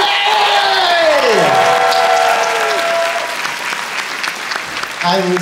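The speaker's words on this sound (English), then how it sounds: "Let's give a warm round of applause for Maddie!" A crowd at a dance competition applauds a dancer with loud, sustained clapping, whoops and cheers, an enthusiastic roar that holds steady before easing slightly near the end.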